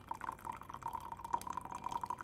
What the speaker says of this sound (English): I carefully will slide the cover and there is a gap so I can pour the water